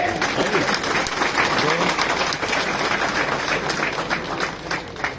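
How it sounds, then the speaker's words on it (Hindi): Crowd applause at a political event in Ashoknagar, with dense, sustained clapping that stays loud and steady throughout, mixed with faint voices in the crowd. "ऐसी तालियां बजाना कि अश्विनी वैष्णव जी को सुनाई दे।"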